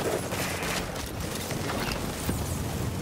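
Continuous, noisy gunfire in a video game shooter, a dense rattling fusillade that holds steady for a few seconds with no clear gaps.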